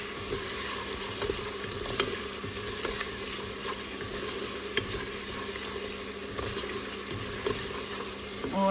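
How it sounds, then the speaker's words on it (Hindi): A spiced masala of turmeric, red chilli, cumin and salt frying in a pan, a continuous soft sizzle with occasional light clicks of stirring, steady and fairly quiet, with no one talking. "और अब हम इसको भूनेंगे अच्छे तरीके से"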